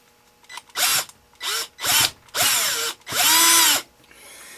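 Power drill whirring in five short bursts of about half a second each, each spinning up and dropping away, while polishing rust and burrs from the cavity of a vintage bullet mold; loud and close, with no talk.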